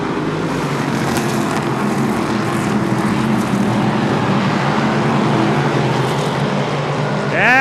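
Stock cars race on a short track on the final lap, a dense steady engine roar filling the whole stretch, loud and continuous, with an announcer calling the race over it.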